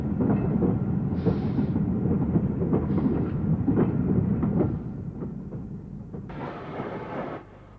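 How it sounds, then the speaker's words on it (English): A 9F steam locomotive, number 92247, hauls a down ore train from Banbury past Snow Hill, its heavy wagons rumbling and clanking loudly with rhythmic clatter, then easing to a quieter roll near the end. "Back at Snow Hill, we see 9F number 92247 on this down ore train from Banbury."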